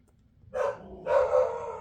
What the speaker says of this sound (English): Oh, there goes the dogs.